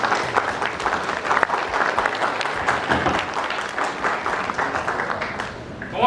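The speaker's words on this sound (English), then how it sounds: "join me in giving a round of applause to the man behind this incredible transformation" Audience applause at an anniversary celebration and awards event for a man being honoured, a dense steady clapping that fills the room for about six seconds, with some voices mixed in.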